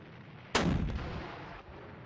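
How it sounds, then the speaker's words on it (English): Coastal battery artillery fire from the Panzer Campaigns: Japan '45 wargame: a single sharp, loud cannon blast that rolls into a long rumbling decay, with a faint second thump near the end. "that is a coastal battery firing at us"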